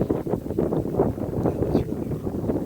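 Gusty wind buffets the microphone on a windy October day along a floating marsh boardwalk, a steady low rumble with fluctuating surges throughout, fairly loud and continuous.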